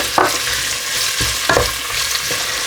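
Whole spices, then onion, fry in oil inside an open pressure cooker, giving a dense continuous sizzle with a few heavier scraping stirs.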